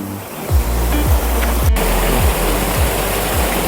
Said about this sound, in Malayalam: ചെറിയൊരു വെള്ളച്ചാട്ടം കേസ്.